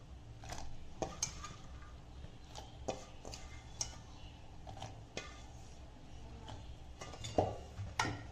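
Fried okra tipped into a pot of simmering sambar, with scattered clinks and taps of a utensil against the pot and soft stirring sounds, quiet and close.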